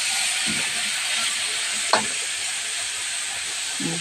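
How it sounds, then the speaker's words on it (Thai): Pork stir-frying in a hot pan: a steady, bright sizzling hiss throughout, broken by a few soft clacks of the utensil against the pan, close up and with no talking. "ก็หมูที่เราเตรียมไว้นะคะ ก็จะใส่เข้าไปเลยนะคะ นี่ เราก็จะผัดนะคะ"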